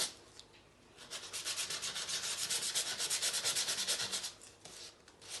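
A nail file or sanding block rubs back and forth over embossed foil on paper, producing a quick series of close, rhythmic scratchy strokes that rise in the middle and taper off.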